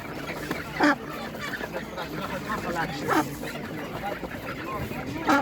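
Meat ducks at a poultry market give honking, quacking calls several times over a busy background of people talking in the crowded outdoor market.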